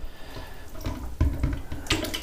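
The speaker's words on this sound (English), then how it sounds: "a couple quick pulses to push water in to force it through" Quick plunger pulses push water through a clogged toilet, giving a few short, wet surging splashes close by with no talk.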